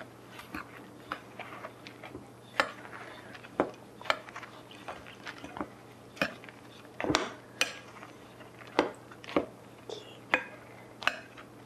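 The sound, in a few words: mixing dry ingredients for almond cookies in a bowl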